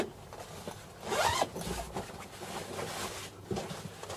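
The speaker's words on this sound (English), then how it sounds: "All you need to do is zip out the front section of your roof." A single zipper pulled open in one quick stroke, close and fairly quiet, followed by faint rustling of fabric, opening the front roof storage section of a VW T25 Vanagon Westfalia.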